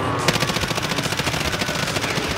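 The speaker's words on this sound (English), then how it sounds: "Somebody was shooting from that gas station" A sustained burst of rapid automatic gunfire in the video game Death From Above, evenly spaced shots rattling continuously and loudly up close for a couple of seconds.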